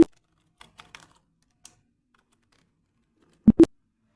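A few scattered, faint keystrokes on a computer keyboard during an entry in Tally accounting software, then two louder, close key clicks in quick succession near the end.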